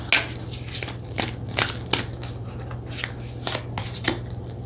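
Oracle cards being shuffled by hand, a run of soft riffling swishes and flicks repeating every half second or so over a low steady hum, close and moderately quiet with no talking.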